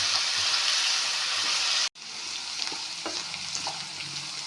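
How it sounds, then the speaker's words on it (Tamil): Potatoes fry and sizzle in a pan, a dense, steady hiss that cuts out for an instant and then resumes a little softer, with faint stirring scrapes under it. "சுமார் 5-6 நிமிடங்கள் நன்றாக வதக்கி கொள்ளணும்."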